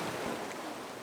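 Ocean surf rolls in on a rising high tide close to a sleeping spot by the shore, a steady broad wash of breaking water with some wind noise and no talking.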